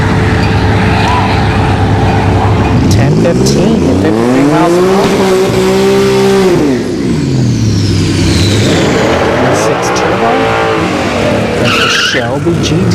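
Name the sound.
Ford Shelby GT500 drag racing run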